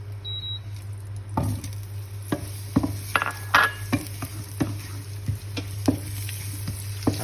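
Ginger sizzles steadily in hot margarine and oil as a utensil stirs it, scraping and clicking against the pan every second or so over a constant frying hiss and a low background hum.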